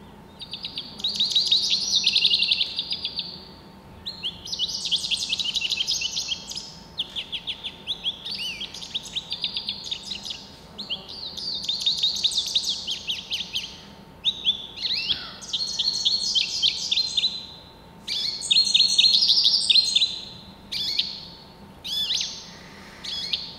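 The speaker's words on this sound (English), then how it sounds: "This is our goldfinch." Goldfinch song: bursts of bright, twittering chirps and warbled phrases, repeated in separate runs with short pauses, clear and fairly close against quiet surroundings.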